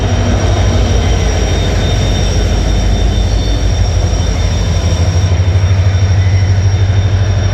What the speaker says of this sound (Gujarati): ટ્રેન આવી ગઈ છે ટ્રેન આવી ગઈ છે